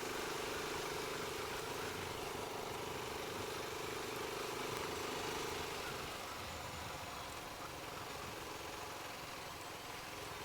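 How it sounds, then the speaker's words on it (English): Motorcycle engine running on tarmac or rough ground with Pirelli Scorpion Rally STR tyres, a steady, faint, continuous drone with a low hum that drops away partway through, no talk. "the sound of this bike"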